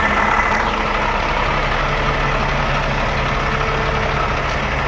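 A semi truck engine idling up close, a steady, loud low rumble with a constant diesel chug and no break from start to finish.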